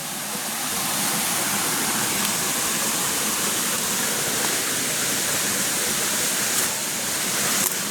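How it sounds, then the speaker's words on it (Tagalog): Rushing water of a waterfall on a farm lot in Calauag, Quezon, a loud, continuous broadband roar that holds steady throughout with no voices. "napakalakas po ng lagaslas ng tubig"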